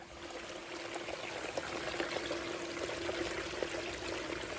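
Water from a small electric pump power head flows through a gold-prospecting sluice into a creek in Bendigo, a steady close rushing and splashing with no talk.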